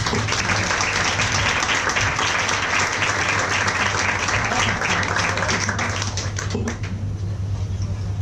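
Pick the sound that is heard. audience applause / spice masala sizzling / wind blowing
audience applause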